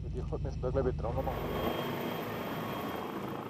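A rescue helicopter manoeuvring near the Matterhorn, its rotor and engine drone steady and fairly close under a narrator's voice, with rhythmic beating pulses early that then smooth into a continuous whine.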